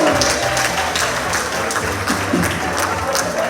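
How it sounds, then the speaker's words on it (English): Dense audience applause at a community centre monthly meeting, steady and fairly loud throughout, with many hands clapping at once and a few scattered voices mixed in. "Give yourselves a round of applause."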